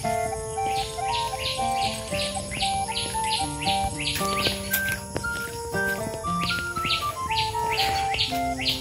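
Many birds twitter and chirp around an open rural village field, a dense stream of rapid tweets and whistles alongside a continuous insect drone, lively and fairly near, with no one speaking.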